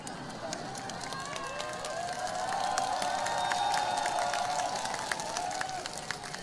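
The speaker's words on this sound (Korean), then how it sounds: "전부 다 박수 치시는데요" An audience at a Korean political rally applauds steadily, the clapping swelling in the middle then easing, with scattered cheers and voices in the crowd.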